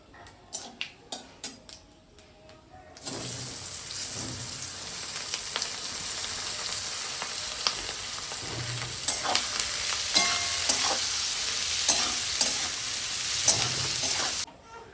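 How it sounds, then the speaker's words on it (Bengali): A steady sizzle of onions frying in a pan until reddish-brown for mutton curry, with occasional scrapes and stirs of a utensil; the first few seconds hold only light clinks before the frying starts. "এই যে পেঁয়াজ ভাজা হয়ে গেছে লাল লাল করে"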